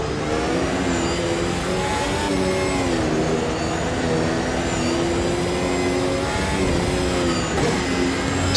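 A McLaren Formula 1 car at Suzuka winds up toward full throttle, its high engine note loud and steady with harmonics climbing and settling over several seconds, no voices.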